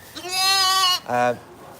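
A sheep on a farm bleats twice close by, a long wavering call followed by a shorter one, with quiet pause after.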